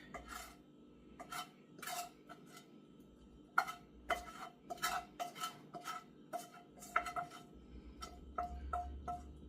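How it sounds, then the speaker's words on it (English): Shrimp pie filling being stirred together in a bowl, a utensil scraping and clinking against the sides in an irregular run of close, fairly quiet strokes with no talk. "everything is getting stirred together like so."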